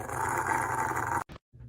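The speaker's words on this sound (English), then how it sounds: "Was you a bad dog?" A dog growls low and rumbling at close range for about a second, followed by a brief snort and quieter sounds after a short gap.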